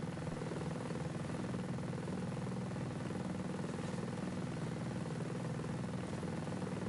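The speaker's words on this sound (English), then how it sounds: "Oh, there's a helicopter." Helicopter in the video game Ghost Recon Breakpoint, a steady, continuous rotor and engine drone that stays constant and fairly close with no talk over it.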